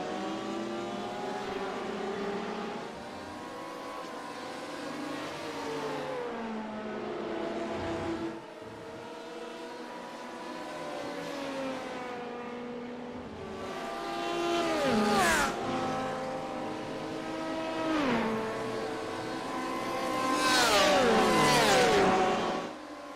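BMW race cars battle at Watkins Glen in a racing game, engines droning steadily with rising and falling revs as cars shift and pass, growing louder and higher toward the end.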